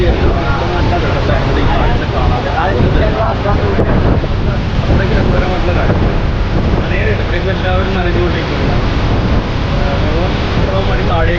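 Strong wind roars steadily at Kundala waterfall in Telangana, with the rushing of falling water and blown spray under constant loud, buffeting wind noise and a voice talking over it.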